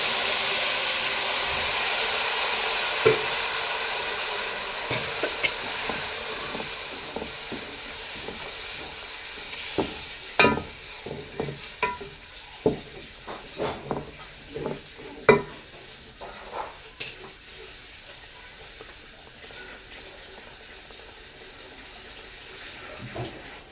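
Masala with tomato paste cooks in a pan for chicken biryani, starting with a loud, steady sizzle that fades as sharp scraping stirs rise to irregular clattering strokes and then quieten toward the end.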